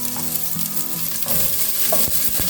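Chopped onions and garlic sizzle and fry in a hot pan, a steady crackling hiss with occasional stirring scrapes and small pops, close and continuous with no voices.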